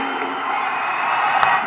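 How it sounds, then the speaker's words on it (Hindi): A large crowd at PM Modi's Jammu rally breaks into steady applause and cheering, a dense, even wash of clapping that holds for the whole short moment. "आपकी जोरदार तालियों में माननीय प्रधानमंत्री जी"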